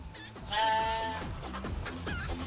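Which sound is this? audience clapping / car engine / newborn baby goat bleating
newborn baby goat bleating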